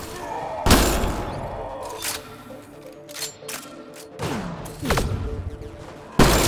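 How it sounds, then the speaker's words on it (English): Sniper rifle gunfire in the video game Mass Effect Andromeda: several loud, sharp shots spaced a second or two apart, over game ambience and mechanical effects. "I have my new sniper rifle."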